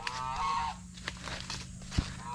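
A goose gives a short nasal honk up close, followed by fainter honking calls from pet geese against a steady low hum and background noise.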